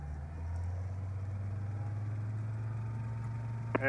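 Sling TSi light aircraft engine running up toward 4,000 RPM in the cockpit before takeoff, a steady low droning hum with a brief sharp transient near the end.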